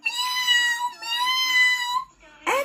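A voice imitates a cat in a puppet storytime, giving two drawn-out, insistent meows close up, followed by a short rising cry.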